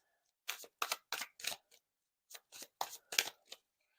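Tarot cards being shuffled for a second spread: close, crisp riffling bursts in a rhythmic run of five, a short pause, then four more, with no voices.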